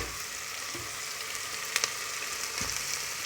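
Ground beef frying with onion in a pan, a bright continuous sizzle with a couple of soft utensil taps, heard alone and close.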